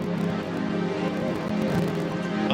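Chiptune-style synth chords from a software plugin play solo, a dense sustained layer of tones held steady at even loudness throughout, with no talking over it.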